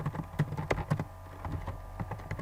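Keys clatter on a computer keyboard in quick, irregular taps, close and fairly quiet, with a few slightly louder strokes among the lighter ones.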